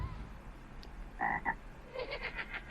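Cartoonish frog croaks from the Murder 2 video game as a character is turned into a frog: a short pair of tonal croaks, then a quicker run of rhythmic croaking pulses, moderately loud over a low background hum.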